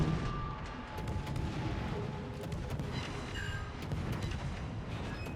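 Warship guns firing in World of Warships, dense continuous rumbling fire and booms with scattered sharp cracks, loud and sustained throughout.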